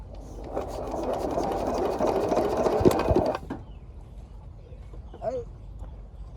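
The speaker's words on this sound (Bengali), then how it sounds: "তো চলো বেশি কথা না বাড়িয়ে আগে মেশিনটা স্টার্ট করি।" Irrigation water pump engine started in a field, a close, rapid rattling mechanical chug for about three seconds that then cuts off, leaving quiet outdoor background with a faint voice.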